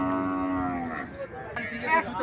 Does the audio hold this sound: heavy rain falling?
no